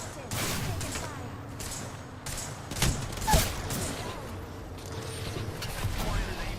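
Rapid bursts of gunfire and sharp blasts, grenade explosions among them, from a squad firefight in a video game, dense and loud throughout with a voice speaking over the shooting.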